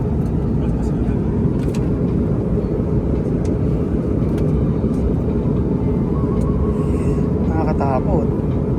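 Loud, steady engine roar and rumble inside an airplane cabin during flight, continuous throughout, with people talking nearby.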